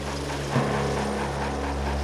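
A French Sécurité Civile rescue helicopter returns, a steady droning engine and rotor hum with low tonal layers, loud and continuous with no voices.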